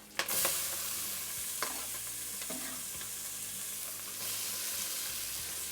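Chopped onion sizzles steadily in an oil-filled pot while a spoon stirs it now and then, a close, soft frying hiss with occasional scraping and clinks and no talking.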